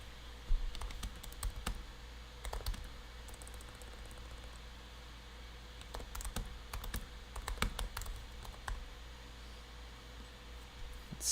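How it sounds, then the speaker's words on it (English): Quiet bursts of keystrokes on a computer keyboard, irregular clusters of clicks and taps with short pauses in between, over a faint steady room hum. "Let me type over here."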